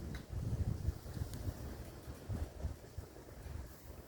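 Wind gusts across a garden on a sunny day, producing low, rumbling buffeting against the microphone that rises and falls steadily with no voices.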